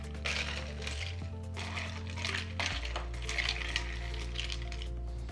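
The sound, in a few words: mixing spoon stirring mojito in glass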